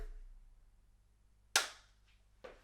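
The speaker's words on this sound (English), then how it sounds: "There we go. Simple clap." A single sharp hand clap rings out against near silence, followed a moment later by a fainter second tap.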